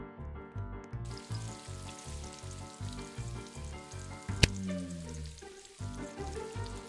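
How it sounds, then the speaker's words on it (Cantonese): A beef patty sizzles on the griddle in a Roblox burger-making game, a steady loud frying hiss with a rhythmic pulsing pattern throughout and a brief sharp click midway. "你煎下啲牛肉啊"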